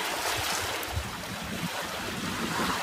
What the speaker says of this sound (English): the North Sea's waves are a little bit confused. They come in all directions, but mostly they're just hitting us on the stern